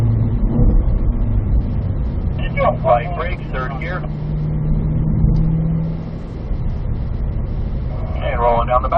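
A Cadillac CT5-V Blackwing circles a race track, its engine a steady, close drone that swells and eases slightly as it runs through the gears, with a person talking over it throughout.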